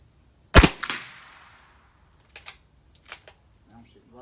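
A Christensen Arms Ranger .22LR rifle fires in a long-range match, one sharp, close crack with a short decaying tail, followed by faint clicks of handling the action and steady insect chirping behind.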